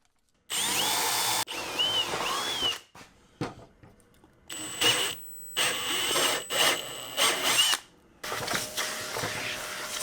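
A power drill drives screws up through spacers into a plywood coffee-table top in a series of short bursts, the motor whining and stopping between screws, close and fairly loud, with no talking.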